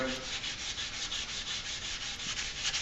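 Steady, even rasp of abrasive rubbing against a 1911 pistol part, likely the hammer, repeated in quick back-and-forth strokes close up, with no voices.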